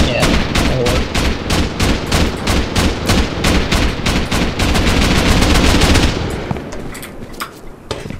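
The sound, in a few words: gunfire in the video game Rust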